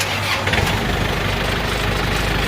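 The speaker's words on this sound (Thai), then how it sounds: "เดี๋ยวเราลองสตาร์ทเครื่องยนต์ให้ดูนะครับ" A Yanmar EF494T tractor's diesel engine catches and settles into a loud, low, steady idle with a knocking rumble, close by.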